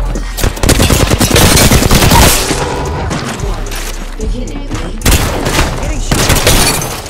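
Rapid gunfire bursts in the Apex Legends video game, loud and close, with dense automatic shots and booming impacts, a brief lull in the middle, then another heavy burst near the end, layered with game voice callouts.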